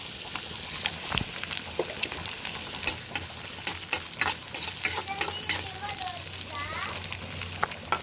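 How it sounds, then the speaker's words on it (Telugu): Onions frying in oil in a pan until brown, a steady close sizzle broken by repeated stirring scrapes and clinks of a utensil, with a voice faintly present. "ఆనియన్స్ అయితే బాగా బ్రౌన్ కలర్ వచ్చేదాకా ఫ్రై చేసేసుకున్నామండి"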